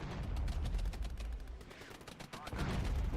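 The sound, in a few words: incoming mortar fire in the video game Regiments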